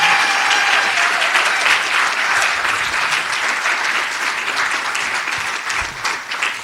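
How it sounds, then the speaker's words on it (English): Sustained applause from a large audience at a college athletics Hall of Fame induction ceremony, a dense wash of clapping that stays loud throughout and eases slightly toward the end. "One more round of applause for our inductees,"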